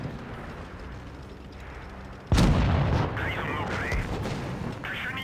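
A heavy tank cannon shot in WoT Blitz bursts out loud and sudden after a quiet stretch, followed by rumbling battle noise and fainter whistling effects.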